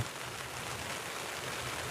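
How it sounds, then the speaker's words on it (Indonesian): Steady rain falling outdoors at a mosque, a soft even hiss of drops on surfaces with no break or change throughout. "Kita berhenti dulu ya, hujan."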